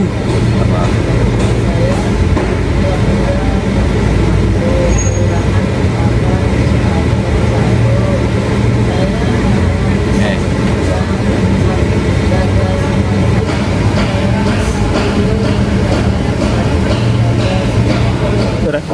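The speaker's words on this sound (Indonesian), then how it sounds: "RPM mesin lebih kurang 2000 RPM." A car engine holds steady at about 2000 RPM with the air conditioning switched on and all windows shut, a constant loud drone throughout, with voices heard over it.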